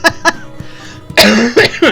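A laugh breaks into a coughing fit: a pair of quick, close coughs, a short pause, then three more harsh, loud coughs with a rough vocal edge.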